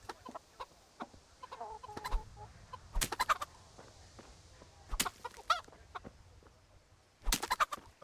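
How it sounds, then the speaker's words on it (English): Chickens cluck and squawk in bursts while being struck in the medieval role-playing game Kingdom Come: Deliverance, with sharp flapping, agitated cries recurring every second or two over a quiet game ambience. "I'm also gonna beat the chickens."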